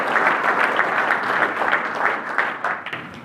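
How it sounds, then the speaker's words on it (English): Audience at an auto show applauds a speaker: dense, steady clapping fills the room for a few seconds, fairly close and loud, easing off slightly near the end. "I'd like to give a really good round of applause to Brian here for everything he's done."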